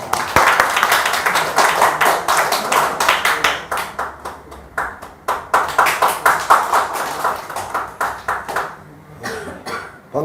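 A seminar audience claps to welcome the chairman. Dense, lively clapping rises and falls in waves, thins briefly midway, then swells again before fading.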